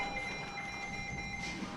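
A NOAA weather radio, a newer model with adjustable low, medium or high alert volume, sounds its alert as a steady, loud sustained tone with a couple of high whining pitches held continuously for nearly two seconds over faint background noise.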